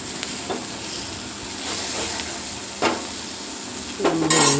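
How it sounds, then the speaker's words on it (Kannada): Liver fries in a pan at home with a steady close sizzle while a spatula scrapes and stirs every second or so, ending in a louder clatter of the utensil against the pan; no voices. "ಎಲ್ಲ 5 ಮಿನಿಟ್ಸ್ ಆಗೋವರೆಗೂ ಫ್ರೈ ಮಾಡಿ"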